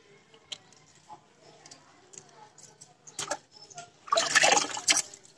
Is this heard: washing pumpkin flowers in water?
yes